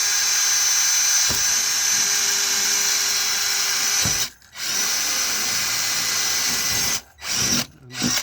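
A power drill whirs loudly and continuously as it bores through a rotten camper wall, with brief pauses near the end as the trigger is released and pressed again.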